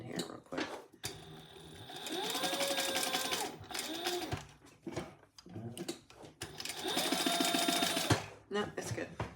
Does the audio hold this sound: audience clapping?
no